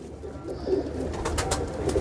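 Pigeons coo softly in a loft of pure Kamagar and Teddy pigeons, including a gold-tipped bird, with low murmuring calls close by over a busy background of rustling and faint clatter.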